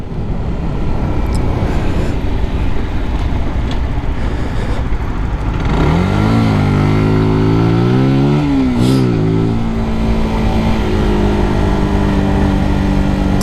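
A Zontes Roadster 125 motorcycle in sport mode revs hard and accelerates through several rising gear pulls, loud and close, with wind rush over the engine.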